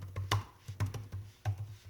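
Keys tapped on a Lenovo Ideapad 110s laptop keyboard, a handful of close, distinct clicks in an uneven rhythm, alone in a quiet room.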